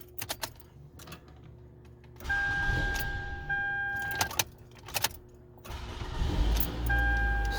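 A Toyota with a freshly replaced Costco Interstate battery cranks and starts, the engine catching into a steady idle amid clicks, key jingles and dashboard chimes inside the car.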